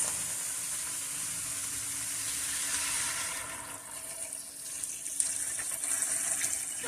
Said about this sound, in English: now we're going to add 6 to 8 cups of water